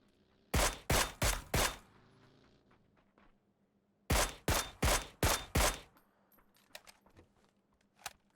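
Gunfire in a PUBG esports scrim: two tight volleys of sharp, loud shots, four in quick succession, a pause, then five more, followed by a few faint scattered ticks.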